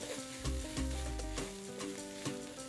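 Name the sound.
rice stirred and frying in a pan for omurice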